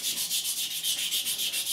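A sanding stick rubs a seam on a 1/48 Academy F-4B Phantom plastic model kit, giving a close, steady, rhythmic scratching stroke roughly every fifth of a second.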